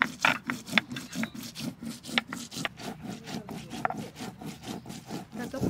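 Spices or other ingredients for Bengali chital fish muitha are ground by hand on a grinding stone in steady, rhythmic rubbing strokes, close and moderately loud.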